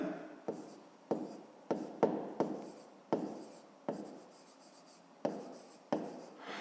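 Pen writing on paper during a 5th-grade maths exercise: a series of about ten short, close, quiet strokes and scratches at an irregular pace, each starting with a soft tap, with no talk over them.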